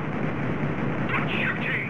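Dense, continuous automatic gunfire from the video game Space Hulk: Vengeance of the Blood Angels, loud and close, with faint high-pitched effects toward the end.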